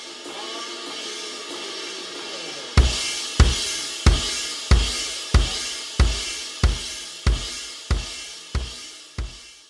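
A drum kit plays a beat, opening with steady cymbal or hi-hat wash before a bass drum enters on even quarter-note thumps, about eleven close, punchy kicks under the continuing cymbals.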